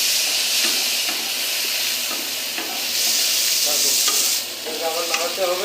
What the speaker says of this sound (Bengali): ভাজা ভাজা হয়ে এসেছে, তো আবার একবার নাড়াতে হবে